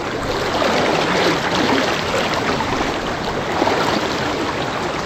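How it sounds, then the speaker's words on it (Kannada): Fast, forceful water pouring at a waterfall near Sakleshpura, a dense, steady roar close by that holds at an even level throughout, with no voices over it. "ಭಾಳ ಫಾಸ್ಟ್ ಇದೆಯಲ್ಲ ನೀರು."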